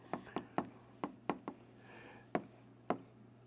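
Pen taps and scratches on paper while notes are written by hand: about eight sharp, close strokes in an irregular rhythm, with a soft scribble between them over a low steady hum.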